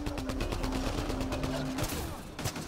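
Rapid bursts of sniper and automatic gunfire in the sci-fi shooter Mass Effect Andromeda, dense repeated shots over a continuous rumble of game sound, with a voice speaking briefly over the fire.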